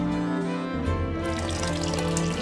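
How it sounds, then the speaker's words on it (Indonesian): Clean spring water pours steadily from a spout into a container, a continuous loud rushing and splashing stream that fills the scene with no voices. "ibu ngajak aku ambil air bersih di pancuran"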